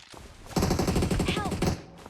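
Rapid automatic gunfire in PUBG Mobile, heard as a close, loud burst of repeated shots lasting just over a second, with excited voices talking around it.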